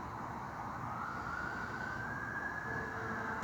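Distant emergency vehicle sirens from a fire engine and an ambulance, a faint rising wail over steady background noise, with no speech.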